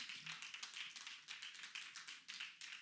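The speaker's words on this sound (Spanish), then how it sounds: "Denle un fuerte aplauso a Cristo, por favor." Church congregation applauding in a faint, distant, rhythmic clapping pattern, with steady regular claps continuing throughout.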